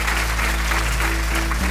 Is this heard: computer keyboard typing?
no